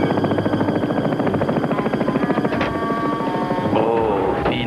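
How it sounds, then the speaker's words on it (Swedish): A helicopter's rotor beats in a steady rapid chop, loud and close, with a whining engine tone and a few brief sound effects toward the end; no one speaks. "Helikopter Deranged. Var tog ni den?"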